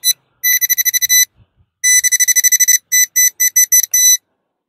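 A metal detector searching for gold near old graves gives loud, shrill electronic beeps in rapid bursts: a fast run of pulses, a pause, then another fast run and several separate short beeps, with no talk.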